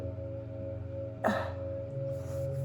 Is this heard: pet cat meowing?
no